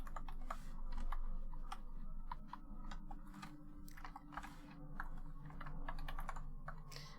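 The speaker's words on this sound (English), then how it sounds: "I was just typing too quickly, I guess." Rapid typing on a computer keyboard during a hacking exercise, with a steady stream of close, crisp key clicks in uneven bursts over a low background hum and no talk.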